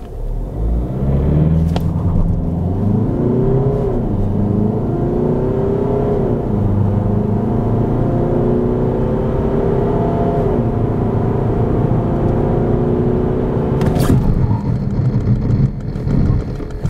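A Peugeot 308 GT with a 1.5-liter engine drives and accelerates, its engine drone rising and falling in pitch through the gears over a steady road rumble, heard from inside the cabin.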